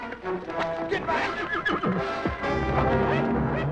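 A horse in a film's wild horse scene neighs with a loud, shrill whinny amid hoof scuffles and commotion. Voices shout nearby over the horse.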